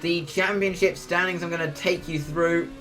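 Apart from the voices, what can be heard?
No distinct noise like a dog, phone or traffic.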